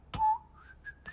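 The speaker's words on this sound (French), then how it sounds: "Le sifflement distinctif de Monsieur Mondo." A short whistled phrase, a few rising and sliding notes, close and clear.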